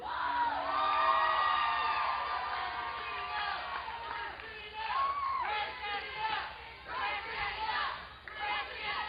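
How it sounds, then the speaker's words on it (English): A crowd at an OVW professional wrestling event chants and cheers, with whoops and yells rising and falling in waves across the whole stretch, filling the arena at a steady, loud level. "As the crowd starts the Christina chant."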